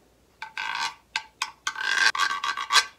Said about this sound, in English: the güiro